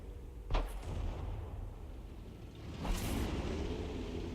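Two booming artillery shots from an M44 self-propelled gun in the tank battle game World of Tanks, each a sharp crack with a low rumbling tail, spaced a few seconds apart over a steady background rumble.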